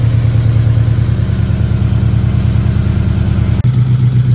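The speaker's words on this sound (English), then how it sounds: "The car is alive with the new built engine and the turbo kit. It's running great." An FRS car with a newly built engine and turbo kit runs at a steady idle, a deep, even rumble with a layered low hum, briefly dipping near the end before settling back to the same tone.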